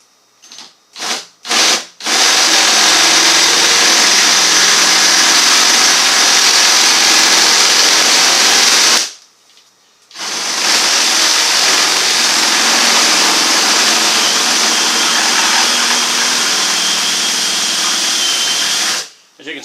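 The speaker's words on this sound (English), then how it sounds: "So now I'm just going to drill it out." A power drill grinds out a stuck fastener on a vintage ice box refrigerator. A few short taps come first, then two long, loud, harsh drilling runs separated by a brief pause.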